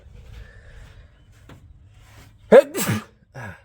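A single loud sneeze close up, a sharp inhale followed by an explosive burst, then a short trailing breath in a quiet room.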